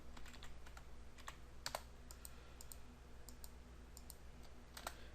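Keys on a computer keyboard tapped in short irregular bursts of clicks, close and fairly quiet over a low steady hum, with no voices.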